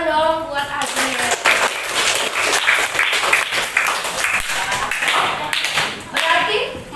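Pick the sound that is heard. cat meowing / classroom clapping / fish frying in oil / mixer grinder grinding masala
classroom clapping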